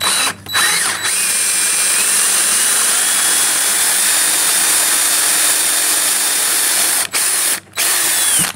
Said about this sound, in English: you can screw the bolts down into it